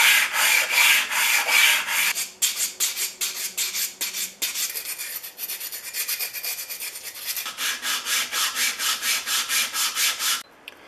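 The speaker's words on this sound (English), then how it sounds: "I'm going to use my lapping station combined with sandpaper, 150 grit, I think that's 3000 grit, and sandpaper that's rolled up." Plane iron from a Stanley No. 62 low angle block plane rubbed on sandpaper over a lapping station, a loud close rhythmic rasping in quick back-and-forth strokes that pauses briefly and then continues.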